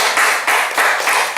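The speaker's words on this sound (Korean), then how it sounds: "그래서 우리 한번 박수 쳐주세요" A church congregation claps together during a Wednesday worship service, a dense, steady wash of hand claps that surges in several loud bursts over a short stretch.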